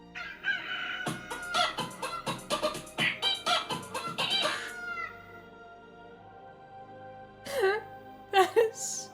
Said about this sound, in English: There is another chicken song?